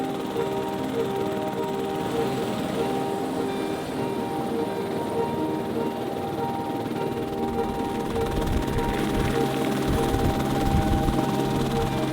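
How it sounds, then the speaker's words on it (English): Steady thudding rotor and turbine roar of a helicopter in flight over New Zealand, heard from inside the cabin, loud and continuous throughout with deeper low-end pulsing toward the end. "This was my first time in a helicopter, and it is the strangest sensation."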